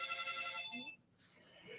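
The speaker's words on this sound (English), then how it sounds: "and now we have the phone." A telephone rings with a bright, electronic warbling tone for nearly a second, then stops, leaving faint room noise, all fairly quiet.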